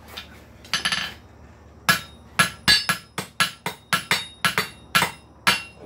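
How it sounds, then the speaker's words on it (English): Repeated sharp metallic hammer strikes on glowing hot steel ring out at a steady pace while forging a hook, a dozen or so blows with brief pauses, close and loud. "The hammer stays in the same spot."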